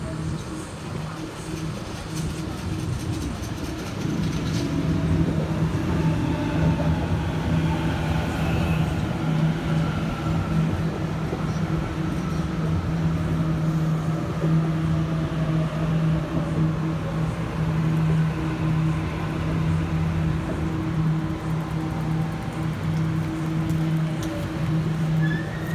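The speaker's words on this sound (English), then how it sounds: "B5 departing platform number 4 on the path of service." A Sydney Trains set pulling out of the platform at Revesby station, a loud sustained low rumble with rising motor whine that builds after a few seconds and continues steadily as the train departs.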